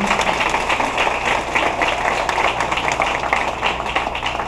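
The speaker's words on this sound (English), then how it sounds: "let's give them a round of applause one more time" An audience gives a round of applause after a church talk show segment, a dense, steady wash of many hands clapping that fills the room at even loudness throughout, with no voices rising above it.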